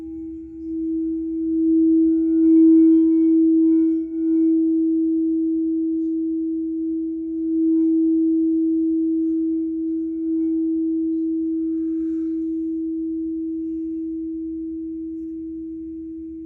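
A steady, pure meditation tone holds a single pitch without a break, smooth and continuous. It plays alone at a moderate level with no voices.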